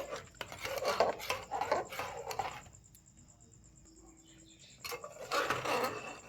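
Mutton paya soup with a beaten egg being stirred in a pot, light metallic scraping and clinking of a utensil in short bursts, close and fairly soft, with a quiet pause in the middle.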